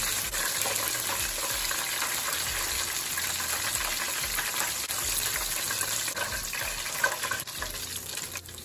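Chicken wings frying in hot oil over a slightly reduced medium-high flame, a steady, dense hiss and bubbling that runs unbroken and close.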